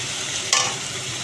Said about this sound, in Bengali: গোটা গরম মশলা ফোড়ন দিয়ে আমি কুচনো পেঁয়াজগুলো তেলের মধ্যে দিয়ে দিলাম।